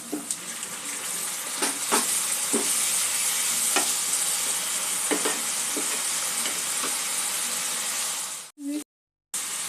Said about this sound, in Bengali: মিক্স করে মশলাটা একটু ভেজে নেবো সামান্য অল্প জল দিয়ে।